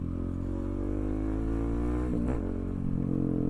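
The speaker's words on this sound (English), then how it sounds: "let's get out here on the highway and see how this bike performs" A 2024 KTM 690 SMC R motorcycle holds a steady, loud engine drone at highway speed, with a brief pitch sweep around the middle as the rider shifts or changes throttle before settling back into a constant tone.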